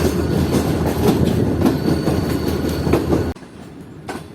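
A locomotive hauling a coach rolls through Rohri railway yard in Pakistan, a steady loud rumble with rhythmic wheel clatter that cuts off abruptly near the end, leaving a quieter, distant rumble.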